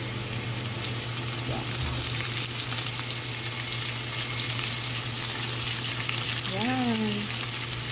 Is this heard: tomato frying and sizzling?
yes